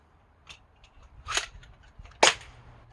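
Foam half-dart blaster firing, two sharp, fairly quiet snapping shots about a second apart, each preceded by softer mechanical clicks, close up with no talk.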